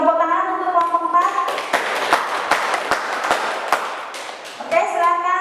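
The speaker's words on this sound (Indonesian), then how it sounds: "Beri tepuk tangan untuk kelompok 4." Children in a classroom break into scattered, sharp clapping for a presenting group during a lesson, the claps crisp and uneven. Voices speak at the start and again as the clapping ends.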